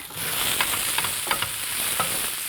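Mushrooms, capsicum, snow peas, spring onions and garlic stir-frying in a hot pan, giving a steady close sizzle with a few scraping stirs.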